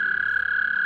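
An American toad trills in breeding season, one steady, unbroken high musical note that holds throughout, loud and close.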